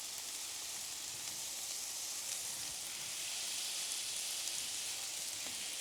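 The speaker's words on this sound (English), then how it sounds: "Listen to that sizzle." Steady, dense sizzling hiss of smash burger patties frying on a Blackstone griddle, continuous and fairly loud with no voices.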